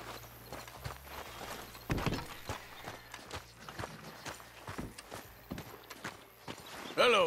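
Horse hooves walk in a steady clip-clop rhythm in Red Dead Redemption 2, moderately close, with a low engine-like hum and a brief louder thump near the end.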